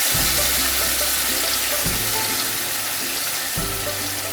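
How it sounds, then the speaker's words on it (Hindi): Blended masala hitting hot oil in a pan for Indian fish curry, giving a loud, steady hissing sizzle that fills the whole stretch with a few dull clatters underneath. "इसमें मैं डाल दूंगी ये सब ब्लेंड किया हुआ मसाला,"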